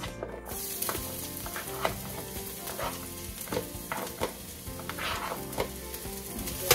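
Onions fry in a pan for Filipino spaghetti sauce, giving a steady, close sizzle with crisp crackles and occasional spatula scrapes and taps, and no talking.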